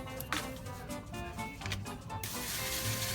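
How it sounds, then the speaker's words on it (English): Short hissing bursts of cooking spray sprayed into a muffin tin nearby, followed by a steadier, longer hiss. "We're just gonna spray these down."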